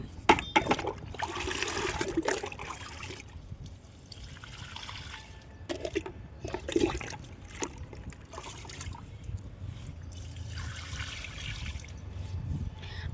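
Water is poured from containers onto bottle gourd and ridge gourd plants in a home garden, trickling and splashing in uneven bursts nearby over about thirteen seconds.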